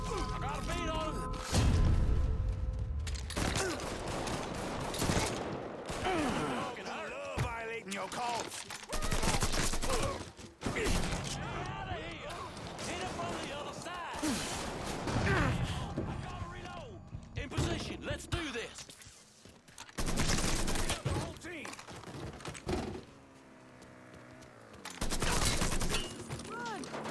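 Rapid gunfire bursts and explosive crashes in the Mafia III video game, dense and loud throughout, with someone talking over the shooting.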